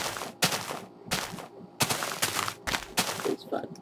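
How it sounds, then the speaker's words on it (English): Fireworks popping in a video game village, a series of sharp loud bursts in irregular clusters over a few seconds, with faint crackle between blasts. "Is that a village over there shooting fireworks?"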